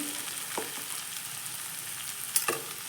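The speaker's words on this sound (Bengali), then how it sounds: "এবার আগে থেকে কেটে রাখা পটল আর আলুগুলো এর মধ্যে দিয়ে দেব" Pieces of pointed gourd and potato fry in a pan with a faint, steady sizzle, broken by a couple of light scrapes of a spoon.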